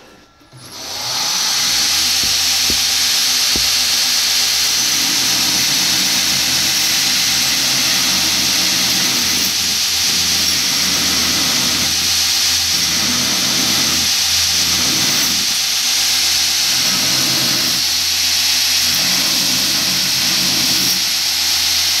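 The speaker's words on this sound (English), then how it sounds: "I want to clean it up, but I don't want to grind into the material." A grinder runs steadily and loudly on a round bar knife, a sustained whining hiss with a low hum, changing slightly in tone as it works the metal, with no talking.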